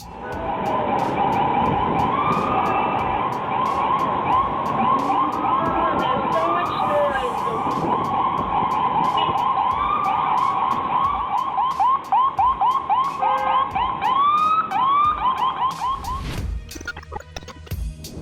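Several ambulance sirens wail and warble through traffic, overlapping rising and falling tones held loud and continuous, with a sharp burst of yelp near the end before fading.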